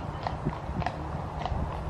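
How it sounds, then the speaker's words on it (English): Horses walking past on a road beside a parked camping car, hooves clip-clopping in an uneven steady rhythm, fairly close and moderately loud, with no talk. "Horses just went past."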